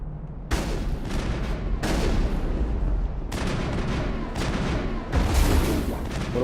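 Gunfire in a Mass Effect firefight: repeated loud bursts of shots and booming impacts in several distinct volleys, dense and close, with little pause between them.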